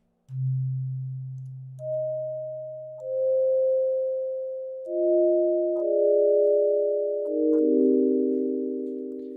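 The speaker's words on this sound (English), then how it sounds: "So that's the wavetable, and those are sine waves" Pure sine tones from the wavetable of a Teenage Engineering OP-XY synthesizer, clean sustained notes entering one after another and stacking into layered chords, each with a soft attack and a long smooth hold, with no voices.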